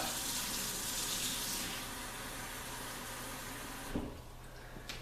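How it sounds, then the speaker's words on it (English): Tap water runs from a faucet into a bowl in a steady rushing splash that softens after a couple of seconds, then cuts off near the end with a brief clunk. "the first bowl we're going to do is just simply tap water from our tap"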